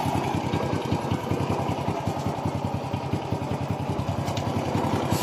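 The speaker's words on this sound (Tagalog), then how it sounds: "Kinggan nyo maigi ang tunog ng ingay ng kanyang cylinder head." The engine of an idling Honda Wave 100 motorcycle with a cylinder head fault, a rapid steady valve tapping ticking over the low mechanical hum, loud and close with no talking.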